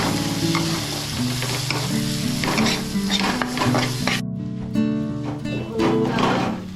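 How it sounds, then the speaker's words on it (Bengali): Biryani spices fry in a pan and are stirred, with a steady sizzle broken by scraping and clinks of a spoon against the pan. A voice speaks over the cooking now and then. "মশলা আমি খুব ভালো করে ভাজা করছি।"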